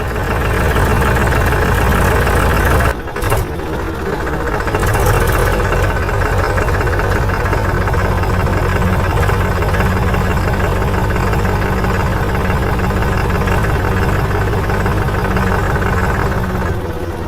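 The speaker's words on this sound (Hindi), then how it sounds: "क्या शानदार तरीके से हमारा ट्रैक्टर चल रहा है" A tractor's steady, loud diesel engine drones and rumbles without pause, with a brief dip in the noise near the start before it resumes.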